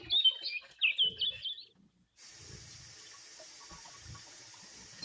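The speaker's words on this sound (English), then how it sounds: "Birds flutter in a delicate dance around a wooden feeder" Small birds singing around a wooden feeder on an afternoon, with bright chirps and twittering in the first two seconds, then a steady rush of running water takes over.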